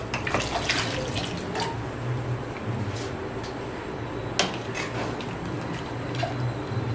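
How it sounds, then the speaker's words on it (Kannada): Water being poured into a masala paste for mixing while cooking Mysore village-style food, heard as a steady trickle with light drips and splashes, fairly close and alone with no talking. "ಎಷ್ಟು ಬೇಕು ನೀರು ಹಾಕೊಂಡು ಇದಕ್ಕೆ ಮಿಕ್ಸ್ ಮಾಡ್ಕೊಳ್ಳೋಣ"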